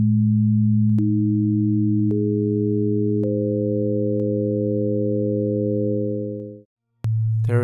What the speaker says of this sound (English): he used a signal tone generator to play all 10 tones